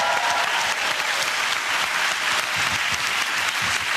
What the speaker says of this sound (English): round of applause for Rocky and James.